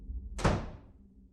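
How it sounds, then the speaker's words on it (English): A front door slams shut as a sound effect, one sharp heavy thud with a quick decay into a low rumble, heard alone. "I heard him stop at the front door and slam it shut behind me"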